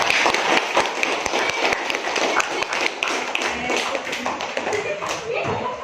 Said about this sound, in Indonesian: Oke, beri tepuk tangan juga.